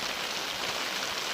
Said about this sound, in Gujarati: જોઈ લો વરસાદ ચાલુ થઈ ગયો.